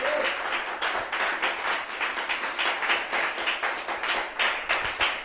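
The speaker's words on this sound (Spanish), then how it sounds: "Dele ese aplauso al Rey de Gloria." Church congregation clapping during a sermon, a steady run of many hands beating in rough rhythm for several seconds, moderately loud and alone, with no voices over it.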